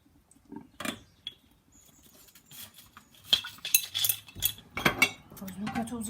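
Glass bottles are scrubbed with a bottle brush in a kitchen sink by someone wearing small black rubber gloves, giving clinks, clatter and scraping bursts that grow busier and louder toward the end.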